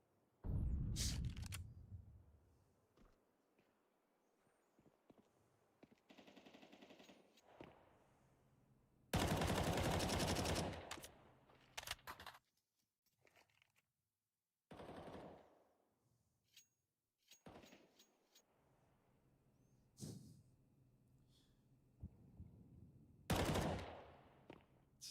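Bursts of MP9 submachine gun fire in Counter-Strike, several sharp rapid volleys separated by quieter gaps, loud and close with game effects between.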